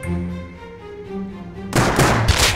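A single gunshot rings out in the survival game Rust during a long-range PvP fight, one sharp, loud report with a short crackling tail, coming after a stretch of quieter tonal sound.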